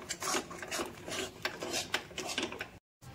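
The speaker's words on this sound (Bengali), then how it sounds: "যতক্ষণ না লাউয়ের জলটা শুকিয়ে আসে ততক্ষণ অবধি আমাদের এটা গ্যাসে নাড়াচাড়া করতে হবে" A utensil scrapes and stirs a bottle gourd mixture in a pan on a gas stove, with repeated close rasping strokes in an uneven rhythm, then a brief cut to silence near the end.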